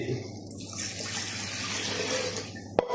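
Water, about 500 ml, is poured into a bowl of kubus flatbread dough ingredients in a home kitchen, a soft steady stream running for a couple of seconds before a sharp knock at the end.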